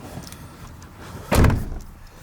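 A Gen 1 Ford SVT Raptor pickup's door shuts with a single solid, close thud midway through, over a quiet cabin background with no talking.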